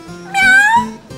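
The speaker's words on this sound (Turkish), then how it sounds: "Karşımda miyav miyav miyavlıyor ya." A cat lets out a single drawn-out, rising-then-falling meow, loud and close, with no talk around it.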